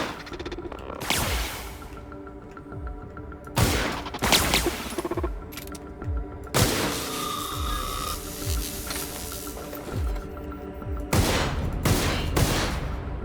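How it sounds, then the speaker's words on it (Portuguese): Gunfire from a weapon in the video game The Outer Worlds comes as several separate bursts of shots with short pauses between them, moderately loud over a faint background ambience. "A cadência de tiro dessa arma é uma bosta."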